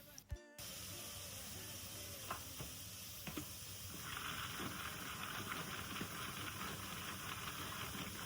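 Red meat and onion fry in a pan in a home kitchen, giving a steady, fairly quiet sizzle with faint hiss and a few soft clinks and stirring knocks.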